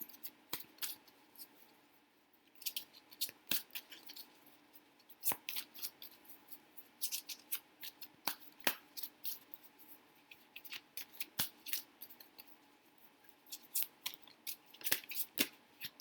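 Tarot cards are shuffled by hand in a quiet room, a series of sharp, close riffling snaps and flicks in irregular bursts, with no talking.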